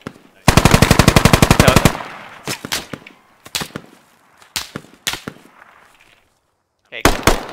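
Rapid automatic gunfire in the military shooter Squad, a loud sustained burst followed by a string of sharp single and double shots at irregular intervals, some near and some more distant.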